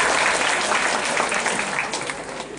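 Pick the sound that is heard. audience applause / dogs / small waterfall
audience applause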